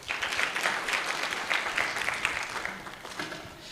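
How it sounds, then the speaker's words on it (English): Audience applauding at a public service inter-generational dialogue conference, a steady wash of many hands clapping throughout, fairly loud and filling the room, tapering slightly toward the end. "Let's give them both a warm round of applause."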